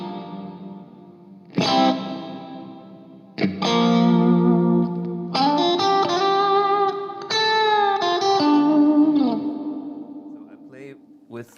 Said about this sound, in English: Can we listen to on and off of this reverb?